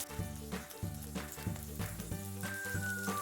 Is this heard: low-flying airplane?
no